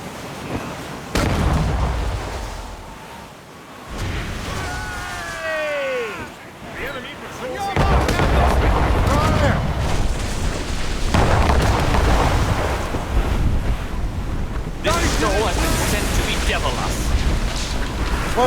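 Ship cannons booming in an Assassin's Creed Rogue naval battle, heavy blasts rolling over creaking ship noise and sea wash, with crew voices shouting between the loud, echoing volleys.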